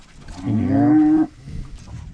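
Upset bulls on a farm let out a loud, drawn-out moo close by, one long bellow that rises and holds before cutting off, followed by quieter low rumbling.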